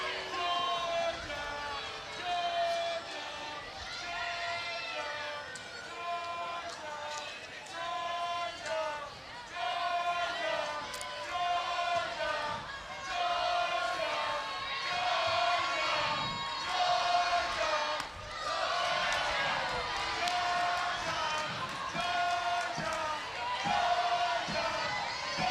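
A large crowd at a Texas vs Georgia college softball game cheers and chants in rhythmic waves, with voices swelling and fading continuously over distant background noise.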